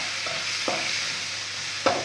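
Vegetables with a pinch of ginger tossed in a pan for spring rolls, a soft sizzle with two or three sharp spatula scrapes and knocks as they are mixed, close up and without talk.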